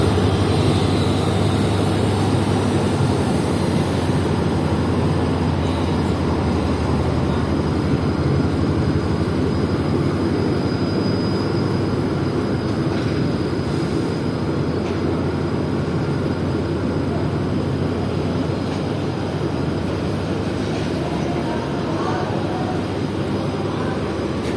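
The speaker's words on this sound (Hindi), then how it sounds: "वहां से निकल रही थी HGMU 30 के साथ पेशावर और कराची के दरमियान चलने वाली 48 डाउन रहमान बाबा एक्सप्रेस" Pakistani passenger express hauled by an HGMU 30 diesel locomotive pulling out of a station, a loud, continuous engine drone and rolling rumble that holds steady throughout.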